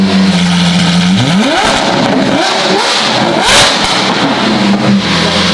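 Close and very loud, a Lamborghini SVJ with a Gintani F1 exhaust, valves open, fires off repeated sharp revs that climb and fall, with crackling between the blips.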